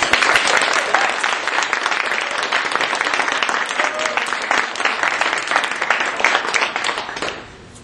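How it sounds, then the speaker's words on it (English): An audience at a Wizrock fan convention panel gives the panelists a sustained round of applause, dense even clapping from a crowd filling the room for about seven seconds before it tapers off at the end. "I just wanted to give a huge round of applause to the panel"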